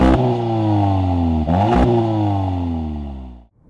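A 2015–2016 Audi TTS (8S) accelerating, its engine and exhaust rising in pitch through the revs, dropping briefly at two quick gear changes, then climbing again before easing off near the end; loud and close, with no talk.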